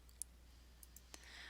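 Quiet computer mouse clicks while formatting bullets in a Microsoft Word document, a few sharp, faint single clicks spaced irregularly over a low steady hum.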